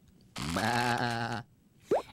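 A voice imitates a sheep bleating in one long, wavering baa, followed by a brief rising squeak, close and loud.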